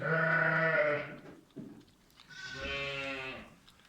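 Zwartbles ewes and their twin lambs bleat in two long, loud calls, one right after the other. The calls are near and harmonic, with a brief rustle in between and no talking.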